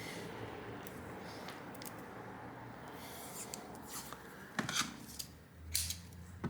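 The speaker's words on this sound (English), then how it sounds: "I'm just going to tape this up now" Tape is pulled and applied to a toy dinosaur bubble stick speaker, giving quiet rustling and sticky crackling with a couple of sharper tearing bursts near the end.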